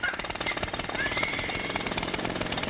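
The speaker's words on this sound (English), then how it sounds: "a baby's cry is just as hard to ignore as a pneumatic drill" A pneumatic drill hammers away steadily at close range, its rapid percussive blows forming a dense, continuous rattle that stays loud and even throughout.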